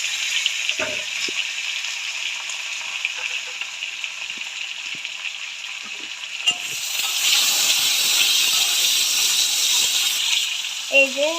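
Potatoes fry in a pan with black cumin tempering, a steady hissing sizzle that swells louder midway as the pieces go in, with a few light utensil knocks.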